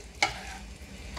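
Paneer being stirred into sizzling curry gravy, a single sharp spoon clink against the pan over a soft, steady low sizzle, brief and close with no talk.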